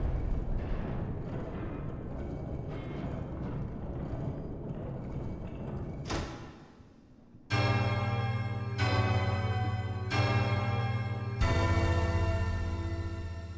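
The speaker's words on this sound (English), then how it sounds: "while this bell is ringing" A bell in the video game Hollow Knight: Silksong tolls four times in a slow, even rhythm, each strike loud and resonant with overlapping sustained tones, following a quieter, muffled stretch of game sound.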